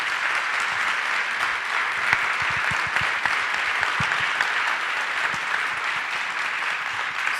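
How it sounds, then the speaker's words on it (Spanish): Sustained audience applause at a forum event, a thick, even roar of many clapping hands with scattered sharper individual claps standing out, continuing for several seconds. "pedir un aplauso para Martín"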